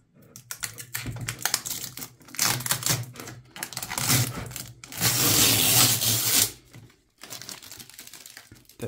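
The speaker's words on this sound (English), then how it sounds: "So let's remove the plastic here." Protective plastic film is peeled off the metal backplate of a Gigabyte Gaming OC RTX 4080 graphics card, heard as close crinkling and scratchy tapping handling noises with brief pauses and a longer sustained crackle toward the end.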